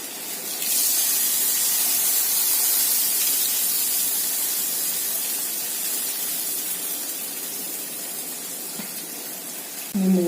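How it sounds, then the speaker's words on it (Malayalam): Thin dosa-style batter poured and spread across a hot griddle while making nool appam, giving a steady broadband sizzling hiss that holds for several seconds before cutting off near the end. "ഈ പാനിലേക്ക് ദോശക്കല്ലിലേക്ക് നിരത്തി ഒഴിക്കും."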